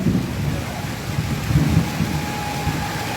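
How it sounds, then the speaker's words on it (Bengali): Heavy rain pours steadily during a Kalbaishakhi storm in Pirojpur, Barisal, with low rolling thunder rumbling beneath the downpour; the sound is loud, close and continuous. "বৃষ্টি পড়তেছে।"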